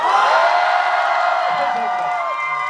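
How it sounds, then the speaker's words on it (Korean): A cinema audience at a film stage greeting in Busan cheers and shouts in a loud, sustained roar with whoops, lasting the whole stretch and tapering slightly at the end. "영화 재밌게 보셨다면 뜨거운 함성 한번 부탁드립니다"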